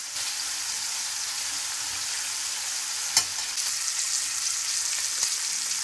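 Shrimp frying in a pan of oil for a garlicky Greek meze, a steady close sizzle throughout with a sharp clatter near the middle as they are flipped and a smaller knock later.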